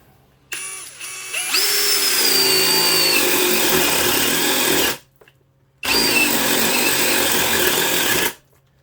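A DCK brushless half-inch hammer drill in high gear bores with a 1 1/4 inch spade bit. Two loud, close bursts of whining motor and grinding cut are separated by a brief pause.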